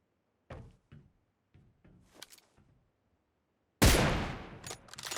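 Video-game gunfire with a few scattered thumps early, then a loud, sustained burst of shots that starts abruptly and rings on to the end.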